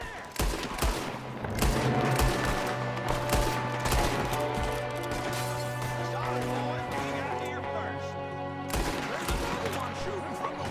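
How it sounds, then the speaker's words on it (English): Gunfire from a window in Red Dead Redemption, with rapid repeated shots cracking over a tonal music bed, and voices talking during the exchange. "Shooting from the window."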